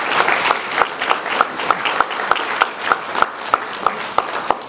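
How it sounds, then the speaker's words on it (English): Audience at an employee retirement dinner applauds for retirees, a dense steady wash of many hands clapping with a few sharper claps standing out, close and sustained throughout with no talk. "Let's give them a round of applause."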